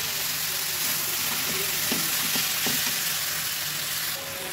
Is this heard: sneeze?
no